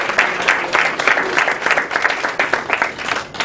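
Applause from an audience at a college book author event, a burst of many hands clapping with a choppy, uneven rhythm, fairly close and loud throughout.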